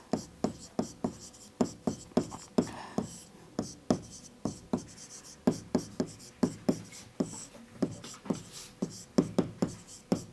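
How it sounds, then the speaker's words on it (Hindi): Chalk or pen tapping and scratching across a classroom board during a biology lesson, a brisk run of sharp strokes in quick irregular bursts, close and clear, with no talking. "जो भी लिख रही हूं यहां पर"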